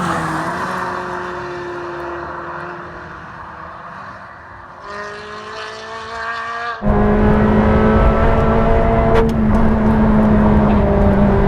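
A Ferrari 360 Challenge Stradale's high-revving V8 sings loudly and continuously with exhaust valves open, its tone climbing, then jumping to a harder, louder roar partway through, with no talking.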